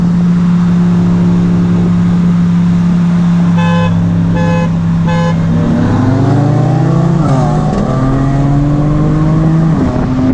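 A Mercedes-AMG C63 S fitted with an AWE track exhaust runs loud and close, holding a steady engine drone with brief tonal bursts, then revving up and down in rising and falling sweeps.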